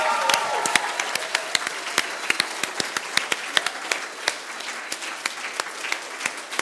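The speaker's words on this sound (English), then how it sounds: "Keep the clapping going." An audience of schoolchildren at a junior school applauds a story competition winner, with a steady run of claps and a few sharper, louder hand claps standing out near the front.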